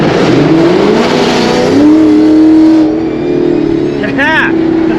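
A naturally aspirated E85 Ford Mustang S550 accelerating hard in a street race against a Camaro ZL1, its engine note climbing loud and close before easing off, with people talking excitedly over it.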